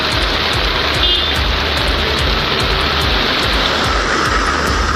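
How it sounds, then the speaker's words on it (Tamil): Heavy cyclone rain pours down in a dense, loud, continuous hiss, with a low rumble underneath that may come from passing traffic or wind. "காரைக்காலிலும் பல்வேறு இடங்களில் கனமழை கொட்டியது."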